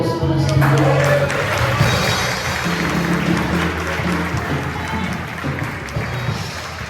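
Church congregation applauding during an evening worship service, a steady wash of clapping from many hands filling the room, with some voices audible over it.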